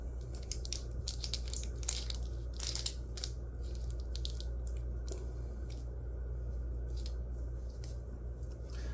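A plastic GFUEL scooper rattles and knocks inside a Naruto Rasengan collector box container as it is twisted and flipped over, giving a steady run of close, crunchy clatters with no talking.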